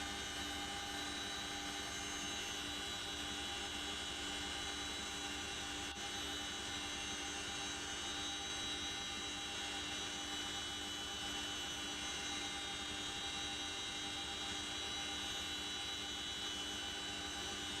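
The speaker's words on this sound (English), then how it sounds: "that's me hanging out of the back of a CH-47 Chinook" A CH-47 Chinook helicopter in the game MW2 DMZ drones with a steady, unbroken engine and rotor hum, a continuous dense roar that holds at an even level throughout.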